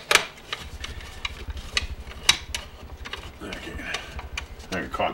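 A screw is driven into a Beachcomber hot tub pump during a seal and bearing change, giving close, irregular clicking and ratcheting ticks with small mechanical scrapes.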